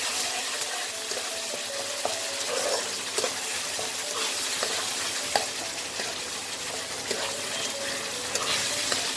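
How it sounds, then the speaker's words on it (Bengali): A spice paste with turmeric and Kashmiri red chili powder fries in oil for a Bengali fish head dish, crackling steadily and close while a spoon scrapes and stirs through it in irregular strokes. "মশলাটাকে ভালো করে কষিয়ে নেব।"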